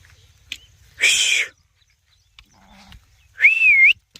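Two separate bleats from a nearby sheep in a sheep pen on a rainy day, each about half a second long, with quiet pauses and faint background noise between them.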